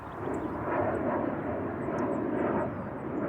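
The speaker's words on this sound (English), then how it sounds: "The second is the sonic boom-like low grumble of jet airliners." Jet airliners pass overhead near Portland International Airport, a steady, deep, rumbling engine roar that fills the whole stretch at an even level, with faint bird chirps high above it.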